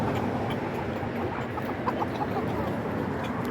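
Silkie hens clucking and squabbling as they fight, a steady dense run of close, agitated clucks and squawks in a farmyard coop, with no talk over it.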